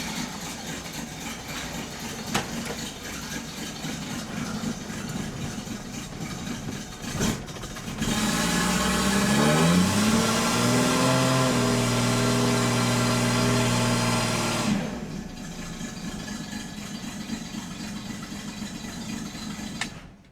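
A 1967 Ford Mustang engine cranks and then catches, running steadily and loudly for several seconds before shutting off, preceded and followed by quieter background rumble; the timing is slightly off.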